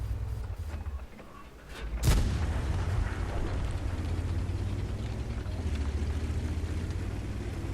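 One heavy tank cannon blast in the video game World of Tanks cracks out sharply, followed by a lingering boom and a steady low engine drone, with no one talking.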